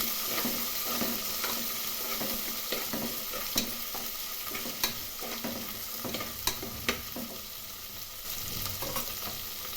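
Avarekal (field beans) stirred and frying in a pan, a steady sizzle broken by repeated scraping clicks of a spoon against the metal, with no voices.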